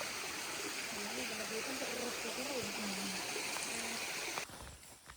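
A gentle forest stream gives a steady wash of flowing water while a person talks over it for most of the clip, and the sound drops off abruptly near the end.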